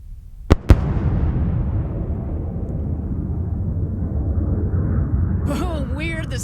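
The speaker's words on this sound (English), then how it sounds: "We heard the sonic boom down here in Texas" Sonic boom from a returning New Shepard rocket booster heard in Texas: two sharp cracks in quick succession followed by a long rumbling roar, with a voice breaking in near the end.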